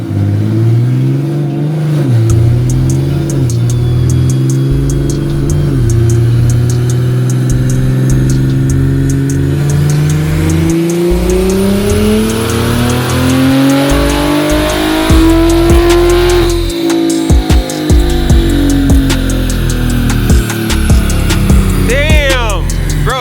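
A single-turbo BMW M340i engine on a dyno roars and revs hard, pitch climbing and surging up and down for a long stretch, very loud and close, with occasional shouting over it.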